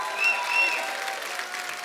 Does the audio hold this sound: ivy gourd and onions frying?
no